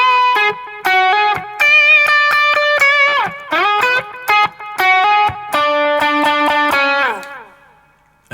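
Distorted electric guitar playing a riff, choppy staccato chords and fast bending lead phrases in stop-start bursts, loud and close with no voices.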